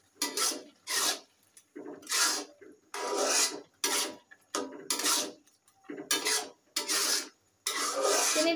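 Carrot halwa being stirred in a pot after sugar is added, a spoon scraping and rubbing in repeated rasping strokes with short pauses between them, close and alone.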